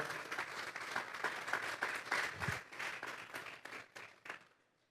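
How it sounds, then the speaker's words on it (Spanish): A church congregation claps for the Lord during a Spanish-language sermon, a fairly quiet, even patter of many hands with distinct claps showing through, tapering away over the final second. "Vamos a darle un fuerte aplauso pues al Señor"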